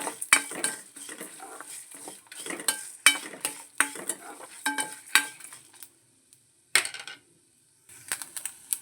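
Whole spices sizzling in hot oil in a pan for a village-style ground-masala mutton curry, with repeated clinks and scrapes of a metal spoon stirring, brief pauses, then more stirring near and fairly loud.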